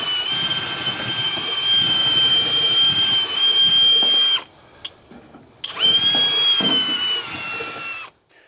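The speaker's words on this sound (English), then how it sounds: "if you can, just try to drill on a small angle here, just like this." A power drill bores at a slight angle through cedar shakes on a house exterior during an electrical service upgrade, a loud steady whine that stops briefly mid-way, then resumes before winding down.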